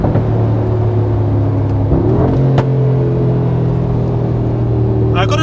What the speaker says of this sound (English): Lot of pops and farts, pops and bangs